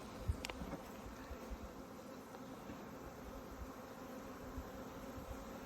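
A steady low buzzing hum of many honeybees at a hive, continuous and close, with a faint occasional higher whine passing by.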